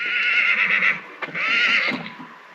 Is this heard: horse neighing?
yes